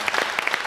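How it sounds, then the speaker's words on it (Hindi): Studio audience of a talk show clapping, a brief close burst of individual claps in quick succession. "आपके तालियों के शोर से पता चलना चाहिए आपको कैसा लगा।"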